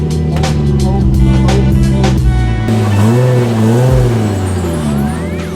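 A Nissan 350Z on the road after about two years off, with stiff new suspension; a loud, steady engine drone with rising and falling harmonics as it revs and shifts, continuous through the whole stretch.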